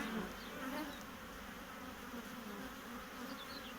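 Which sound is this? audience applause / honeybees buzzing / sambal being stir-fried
honeybees buzzing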